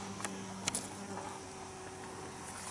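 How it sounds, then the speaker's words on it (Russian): Insects, mosquitoes and bees, buzz steadily in a garden beside a greenhouse, a faint continuous drone close by, with a few soft rustles and no speech. "Ой, какие-то комары, пчелы жужжат."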